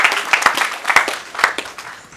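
Scattered applause at a speech honoring the Masdin movement's initiative: sparse, individual hand claps from a small audience, irregular and fairly close, fading toward the end.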